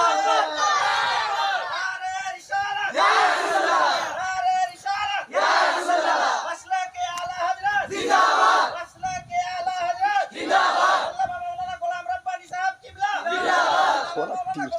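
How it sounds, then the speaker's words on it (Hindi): Large gathering at a religious speech answering a takbir call: a crowd roars its chant in repeated loud bursts separated by short pauses, with scattered voices between the surges. "नारे तकबीर,"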